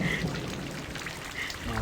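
Rain falls in the Corpse Party horror video game, a soft steady hiss of downpour at low level, with a voice speaking over it.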